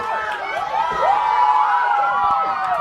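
A big home crowd at a Medfield high school field hockey game on senior night cheers and shouts after a goal, with overlapping excited voices and children's yells filling the air.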